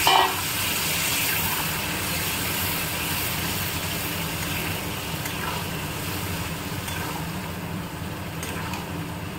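Water pours into a pot of cooking meat on a Kolkata stove, a steady close gushing and bubbling that begins with a small splash and runs without pause to the end.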